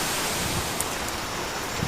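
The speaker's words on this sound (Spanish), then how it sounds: "Ahí está la cascada" The Salima waterfall roars as a constant, loud, dense rush of falling water, filling the scene without pause or voices.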